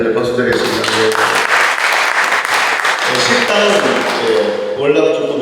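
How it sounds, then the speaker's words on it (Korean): A congregation at a church prayer gathering bursts into sustained applause, a dense, loud patter of many clapping hands lasting several seconds, with a voice and tonal sound running underneath. "우리 할렐 박수 드리겠습니다"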